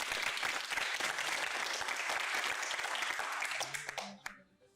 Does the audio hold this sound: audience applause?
yes